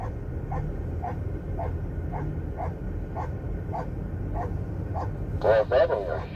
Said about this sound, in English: You can hear the freedom dog back there barking.